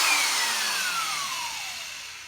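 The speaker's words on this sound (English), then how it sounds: "these metal polishing cone thingies attached to a drill" A power drill spins a metal polishing cone against a BMW BBS wheel with Meguiar's metal polish, a brief, fairly faint whirring hiss that slowly winds down.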